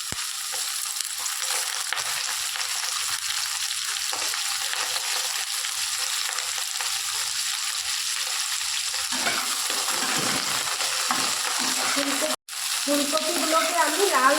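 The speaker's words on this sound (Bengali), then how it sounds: "ফুলকপিগুলোকে আমি লাল করে ভেজে নেব।" Cauliflower pieces frying in hot oil in a pan on a medium-low flame after potatoes, for a Bengali mixed vegetable dish: a steady, dense sizzle runs throughout, with a brief dip near the end and faint stirring scrapes.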